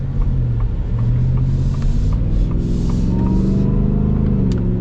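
A supercharged Shelby pickup truck engine rumbles and revs steadily nearby, deep and loud throughout, with the pitch rising slightly toward the end.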